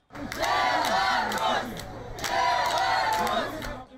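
A large crowd roars and cheers from the stands at a tank race, in two long, loud swells with a brief dip between them.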